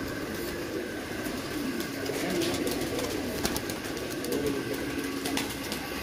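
Golden Kamagar Kasuri pigeons coo softly in a loft, a low repeated murmur with a few brief flutters and light rustling, and no talk.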